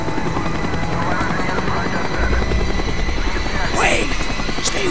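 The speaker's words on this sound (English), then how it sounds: "The chopper is coming around again." Helicopter in the Call of Duty Black Ops video game, a steady loud rotor chop throughout, joined by bursts of gunfire and whooshing effects.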